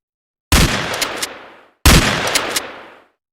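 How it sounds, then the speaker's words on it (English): Two very loud, explosion-like gunshot blasts go off about a second and a half apart, each a sharp crack followed by a long, fading reverberant tail. "very loud, explosion-like sounds, referred to as impulse sounds"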